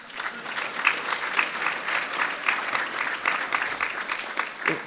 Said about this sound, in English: We're going to give them applause anyway.